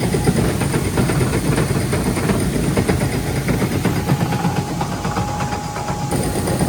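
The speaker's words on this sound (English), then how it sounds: "Hear it like rattling through the auger." A combine harvester working in harsh conditions, its grain rattling steadily through the auger beneath a loud, continuous engine drone, with no talk.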